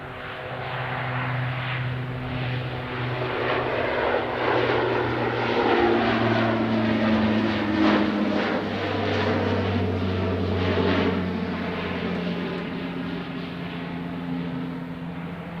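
A WestJet airliner rumbles past at Edmonton International Airport, a steady, loud engine roar with droning low tones that swells slightly mid-pass and holds throughout, no voices.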